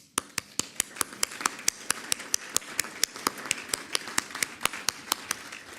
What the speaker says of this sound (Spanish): quizá hay que reconocer con un aplauso